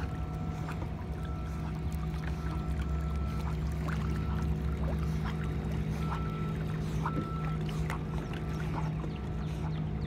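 Motorized Hobie Outback kayak spinning quickly at high speed, giving a continuous low motor hum under steady water swish and splashing along the hull, with scattered small drips and knocks, close and without speech.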